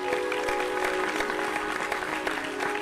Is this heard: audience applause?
yes